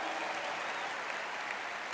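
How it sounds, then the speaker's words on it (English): A large convention crowd of thousands at the MGM in Las Vegas applauding veterans, a dense, steady roar of clapping that fills the moment without a break. "Can we give them a big round of applause?"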